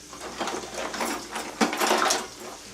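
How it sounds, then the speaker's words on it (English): A wooden spoon scrapes and knocks around four onions in a non-stick pan, with a steady near scraping and sizzle and a few sharper clicks. "supposed to be a non-stick pan, so I just use a wooden spoon just to keep the onions on the move"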